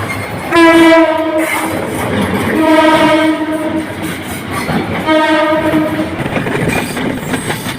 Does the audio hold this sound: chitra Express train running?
yes